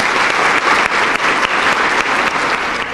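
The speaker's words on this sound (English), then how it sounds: "Let's give them a round of applause." Loud, continuous applause fills the hall at a United Way of East Central Iowa campaign celebration, a dense crowd clapping steadily for the whole stretch with no voices on top.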